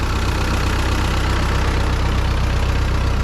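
A Ford 9N tractor engine idles close by, a steady low chugging rumble with even rhythm, loud and unbroken throughout, no voices.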